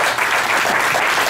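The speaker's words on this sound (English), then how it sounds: "Big round of applause." Loud, continuous crowd applause at a political volunteer gathering in a curling club, a dense unbroken patter of clapping hands.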